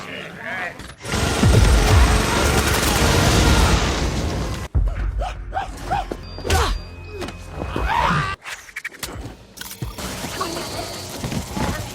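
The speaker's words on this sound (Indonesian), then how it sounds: "Dia dengan cepat menghabisi para alien dengan rentetan tembakan blaster" A rapid barrage of sci-fi blaster shots, dense and loud for several seconds, then scattered bursts, impacts and grunts in a Thor movie fight scene with aliens.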